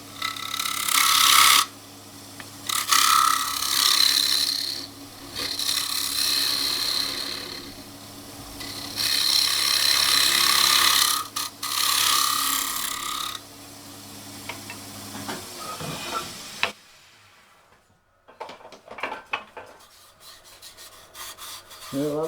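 Woodturning tool making small cuts on a wooden lidded box spinning on a lathe, with loud rasping scrapes in several bursts and brief pauses, followed by quieter handling noises near the end.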